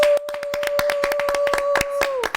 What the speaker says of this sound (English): So I think we can clap for the mothers.